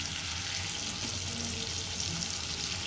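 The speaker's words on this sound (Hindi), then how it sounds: "मिर्ची और 2-3 जो आपका मन करे आटा वाटा वो डाल के इनको भून रहे हैं ताकि ये पक जाए" Chilies and flour frying in a pan, a steady close sizzle that continues without a break and has no talk over it.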